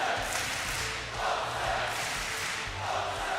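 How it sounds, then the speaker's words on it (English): Loud crowd roaring and cheering at a DreamHack Masters esports Counter-Strike match in Sweden, a dense continuous wash of voices that swells and ebbs, with no clear single speaker. "Never have I ever heard such a loud crowd in Sweden before."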